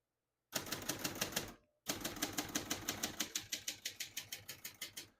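Keys clatter on a 1967 Hermes 3000 portable typewriter, a quick close burst of strokes, a short pause, then a long steady run of crisp, evenly spaced clacks that gradually slows.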